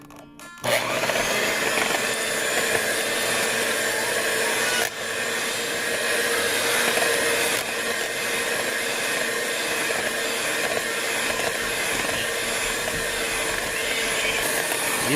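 An electric mixer whisks egg whites with a pinch of salt in a bowl, starting up abruptly and then holding a loud, steady, close whir for the rest of the stretch, with no talk.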